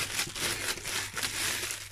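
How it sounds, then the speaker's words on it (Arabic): A plastic bag being pulled and closed tightly over a jar of pickled cucumbers, close crinkling and rustling in short irregular bursts. "ونقفله بكيس ونروح قافلينه قفلا جيدا جيدا جيدا"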